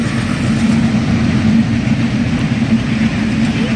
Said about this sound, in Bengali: বাংলাদেশের লাইন দিয়ে চলে যাচ্ছে ইন্ডিয়ান ট্রেন।